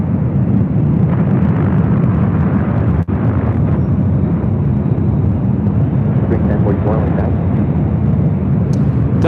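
A Delta A330neo takes off at LAX, a continuous low, rumbling jet roar heard at some distance, with one sharp click near three seconds and faint voices under it.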